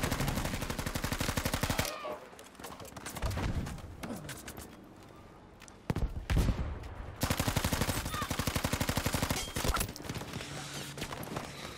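Rapid bursts of automatic fire from a bipod-mounted gun in Battlefield V, loud and close, with sustained rhythmic volleys broken by brief pauses and scattered single shots.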